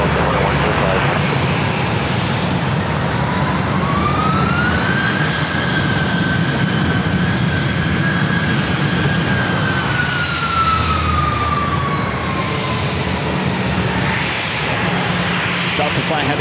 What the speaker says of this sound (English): Delta flight heading to Atlanta, flight 932. It's an A321.